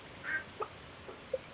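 A duck in the Stardew Valley video game quacks faintly: one short call early, then a couple of tiny blips and a brief final quack, spaced apart against quiet background.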